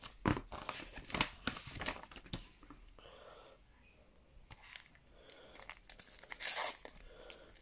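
A paper letter envelope is torn open up close, with several quick ripping and crinkling bursts, a short lull, then more tearing and paper rustle.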